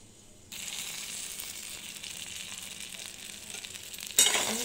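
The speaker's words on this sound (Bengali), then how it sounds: "নুন দিয়ে একটু ঢেকে ঢেকে ভেজে নিলাম।" Pointed gourd (potol) slices sizzle in a pan with salt, a steady soft frying hiss that starts abruptly and carries on alone, ending with a brief louder clatter.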